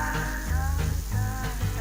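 Chopped onion and beef heart fry in a pan for goulash, giving a steady close sizzle and crackle with a faint stirring clatter and no voices.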